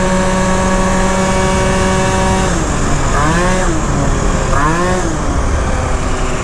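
Minarelli-engined scooter fitted with a Phantom F12 variator riding steadily, a loud continuous engine drone with strong harmonics that rises and falls in pitch twice near the end as the throttle changes, with wind noise throughout.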